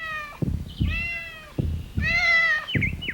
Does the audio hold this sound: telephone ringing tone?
no